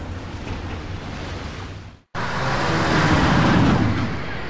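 A car in the video game Alan Wake: a steady broadband engine and road rumble, briefly cut to silence, then returning louder and fuller, with no talk.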